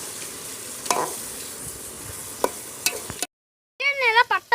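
Spices such as chilli and coriander powder being stirred while frying in a pan for mutton biryani cooked on a rooftop, giving a steady sizzle with a few sharp scraping strokes before a short pause and a busier burst of stirring.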